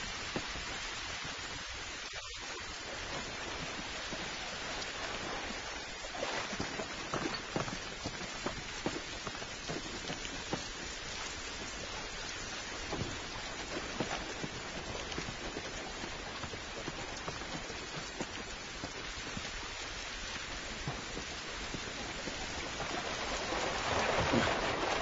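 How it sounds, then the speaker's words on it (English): Steady rain falling outdoors in the video game The Last of Us on PS3, a continuous dense hiss of drops on surfaces filling the whole stretch, growing slightly louder near the end, with no voices. "This rain ain't gonna do us any good."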